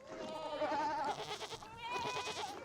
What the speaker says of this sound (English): he outsourced lawn care to a herd of goats